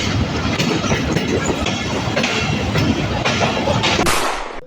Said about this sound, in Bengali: আর ঈশ্বরদী জংশন থেকে রাজশাহী পর্যন্ত এখন আমাদের ট্রেন কিন্তু পুরো নন স্টপ চলবে।